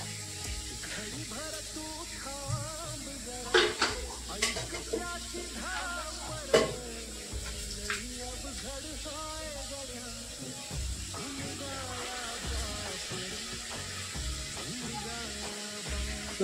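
Vegetable triple rice being stirred and tossed in a hot pan, with a steady sizzle of frying underneath and repeated scraping, clattering stirs of the utensil throughout.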